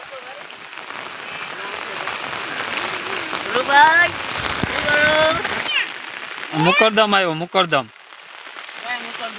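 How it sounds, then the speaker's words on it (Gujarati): Heavy rain pours steadily onto a flooded village street, a dense, loud hiss throughout, with excited voices talking over it. "જો એટલો વરસાદ હે."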